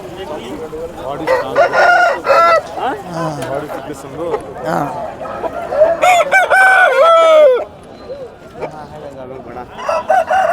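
Chickens cluck and a rooster crows loudly nearby, repeated calls throughout, with people talking in the background, at a weekly poultry market in Galiveedu.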